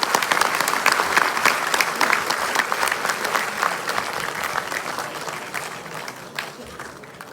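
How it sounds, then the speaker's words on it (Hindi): Applause from guests welcoming dignitaries at a CSS Day 2023 ceremony at the Ambedkar International Centre in New Delhi, a dense, steady clapping that runs throughout and gradually thins toward the end. "माननीय सभी अतिथिगण जोरदार तालियों के साथ स्वागत"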